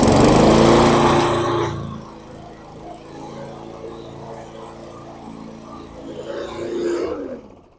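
A lawn mower engine cranking and catching after its carburetor was cleaned, first a loud rough burst, then a lower steady idle that swells again briefly before cutting off.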